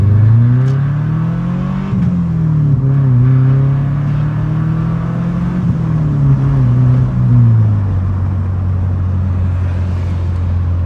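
A car engine with a muffler delete and loud, raspy straight-pipe exhaust winds up toward redline, dips briefly, then climbs again before settling near the end, with no talking.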